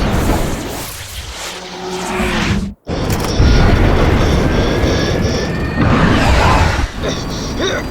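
In an aerial combat film scene, a bomb dropped from a fighter jet explodes on target: a loud, dense roaring rumble of jet engines and blast, cut by a sudden brief silence, then a sustained heavy boom and roar.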